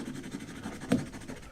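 Pencil eraser rubbed clean on a scrap of paper beside a drawing, a soft brief scratchy scrubbing, close and quiet, with a slightly firmer stroke near the end.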